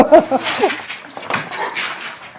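Several dogs at a food bank workplace give short yips and whimpery barks over a busy indoor room, with people talking nearby throughout.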